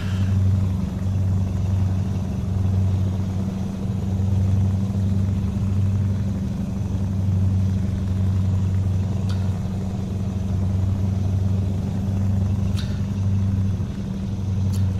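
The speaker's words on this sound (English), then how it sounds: "The engine is really loud." A loud, steady truck engine drone from the Euro Truck Simulator 2 game, a deep continuous rumble with slight pulsing that fills the whole stretch without any speech over it.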